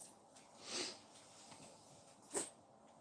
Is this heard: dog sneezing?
yes